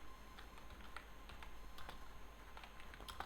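Rapid, irregular keystrokes on a computer keyboard click softly and closely, a quiet run of light taps at uneven intervals as a school name is entered.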